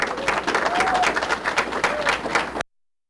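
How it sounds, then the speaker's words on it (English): A graduation ceremony crowd applauding, a dense, loud wash of clapping from many hands that fills the hall steadily, then cuts off abruptly. "You deserve another round of applause for making it through that."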